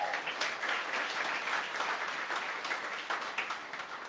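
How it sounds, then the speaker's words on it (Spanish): A church congregation applauds loudly in praise during a worship service, dense sustained clapping filling the whole stretch with no talk over it. "Aplauda fuerte a Jesús."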